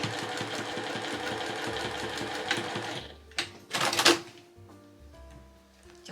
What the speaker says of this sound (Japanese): ここのところ1センチで縫っていきます。